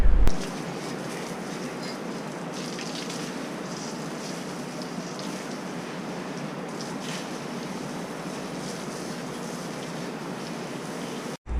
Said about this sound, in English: Now to give her the old hose down to get some of that rust causing seawater humidity off the bike.